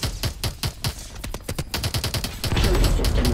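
Rapid gunfire from the PC shooter Call of Duty: Advanced Warfare (2014), with dense, overlapping bursts of automatic shots that build into a loud, continuous barrage near the end.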